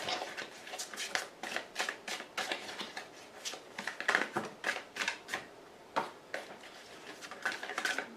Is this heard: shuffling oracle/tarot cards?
yes